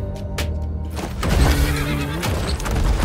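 A horse whinnies loudly during a Bison move in the Street Fighter 6 fighting game, a bright rising neigh set against booming impacts and game effects, with no talk.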